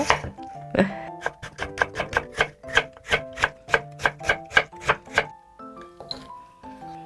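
A knife julienning radish on a cutting board, a rapid run of sharp, evenly spaced chops close up, about a dozen crisp strokes in steady rhythm with a brief pause near the start.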